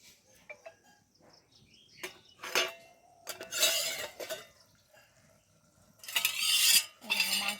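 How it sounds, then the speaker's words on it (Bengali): Metal clinks and scrapes as the lid comes off a cooking pot of handi chicken, with a few bursts of clatter and rustling between quiet gaps, close by and moderately loud. "তো এখন একটু ঢাকনাটা খুলে দেখব যে মাংসটা কেমন সেদ্ধ হলো।"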